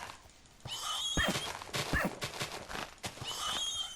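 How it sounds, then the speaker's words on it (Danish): Horses in the Minecraft video game give whinnies and snorts along with clip-clop hoof steps, several repeated calls over a busy game soundscape at a moderate, fairly close level. "Og heste!"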